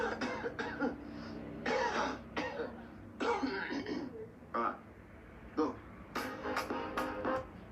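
A cough in the music video for the song comes through as short, sharp bursts set among music and voices, several coughs or throat-clearing sounds in an uneven rhythm.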